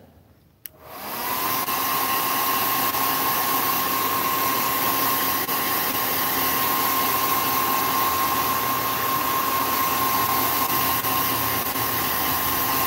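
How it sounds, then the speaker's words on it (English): A handheld hair dryer switches on with a click and then roars steadily and loudly with a constant whine, running without pause and with no voices over it. "So, back to our handy dandy hair dryer."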